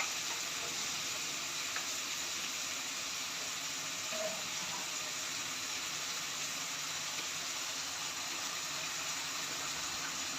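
Soy sauce sizzling and frying in a hot pan for vegetable rice, a steady bright hiss that holds evenly throughout with a faint clink partway through.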